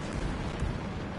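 A canister explosion in a video game, a brief burst of broadband noise with a heavy low rumble that lasts just over a second without fading away, and no voices over it.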